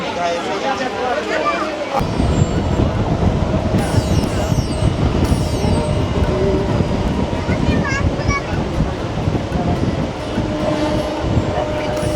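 A Howrah to Digha local train halts briefly at Nandakumar station, a loud continuous rumble and rattle of railway carriages with scattered squeaks and clanks, with talking heard over the noise.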